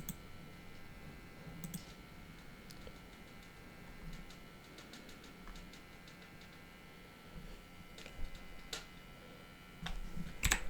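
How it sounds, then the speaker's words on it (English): Computer mouse clicks, a few sharp and scattered, sound over a quiet room hum while GitHub connection settings are opened in a web app. "click connect GitHub"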